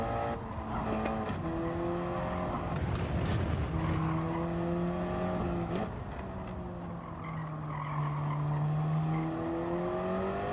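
Race car in a single-make sim racing game, engine whining and rising through gears with shifts and tire squeal, loud and continuous, no talking.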